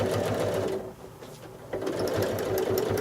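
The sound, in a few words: sewing machine free motion quilting, travel stitching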